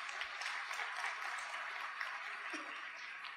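Graduation ceremony audience for technical and technologist graduates applauds in a steady, moderately distant wash of clapping that holds evenly throughout.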